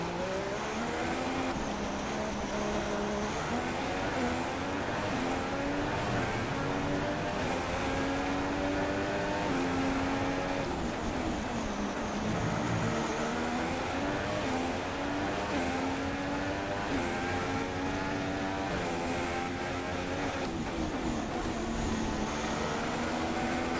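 An F1 race car from the F1 2016 video game drives with a loud, continuous engine whine that rises and falls through gear changes across the whole stretch, with no talk.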